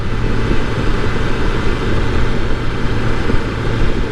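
BMW S1000R motorcycle engine at riding speed, a steady loud broadband roar with wind rush and no break or voices.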